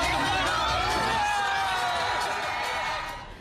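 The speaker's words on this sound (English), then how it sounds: "cheering crowds greeted 4 Israeli hostages after they returned home from the hospital Sunday" Crowds cheering to greet returned Israeli hostages in their hometowns, a dense, loud wash of voices and whoops that fades slightly toward the end.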